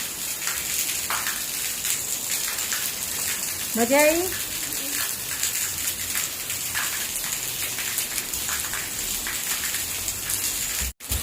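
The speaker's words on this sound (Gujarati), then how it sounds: "આવશે આવશે વરસાદ." Steady rain falls outdoors at the start of the monsoon, a continuous hiss of drops on surfaces throughout, with a short burst of speech partway through and a voice briefly remarking on it.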